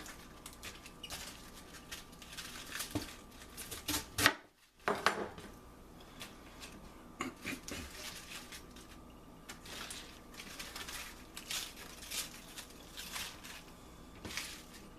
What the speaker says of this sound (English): what you want to do is cut this up as thin as you can in long slices